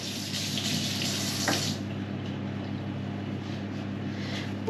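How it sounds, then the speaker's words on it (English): Running tap water rinsing a hand at a kitchen sink while making jam roly-poly, a steady close hiss of flowing water that cuts off partway through, leaving a low background hum. "Just quickly rinse my hand."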